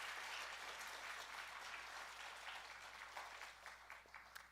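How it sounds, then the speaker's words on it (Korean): A church congregation at a Korean New Year revival evening service claps together in sustained, moderately distant applause that slowly tapers off. "우리 장로님들에게도 박수 한번 하겠습니다."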